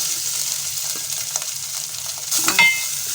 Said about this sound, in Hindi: और अब चिकन को अच्छी तरह से फ्राई करेंगे।